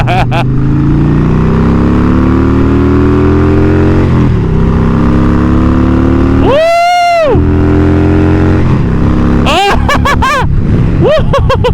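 Harley Davidson motorcycle revving and accelerating at about quarter throttle, a loud, close engine roar rising and falling with gear changes, with sharp whooshing passes and wind noise over it.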